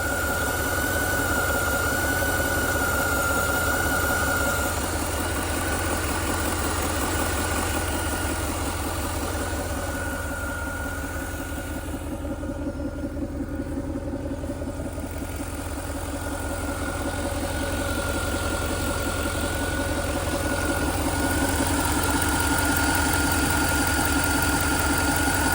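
A Lingenfelter-modified 2000 Chevrolet Corvette V8 idles steadily, heard up close near the engine belt, a continuous low rumble with a faint exhaust snarl and no talk.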